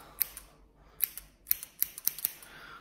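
Scissors snip hair during a haircut, with a handful of quiet, sharp metallic clicks at uneven intervals close to the listener, with no talking.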